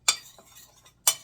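Two sharp metal clinks of a utensil against a mixing bowl while cookie batter is stirred, about a second apart, with a faint scrape between them, close and clear with no talking.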